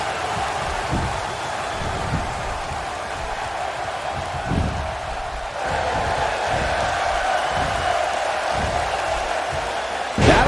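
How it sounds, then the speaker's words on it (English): A wrestling arena crowd in the game WWE 2K17 roars in a steady, dense wash, with occasional thuds and swells in intensity partway through and again at the very end. "Would you listen to this crowd?"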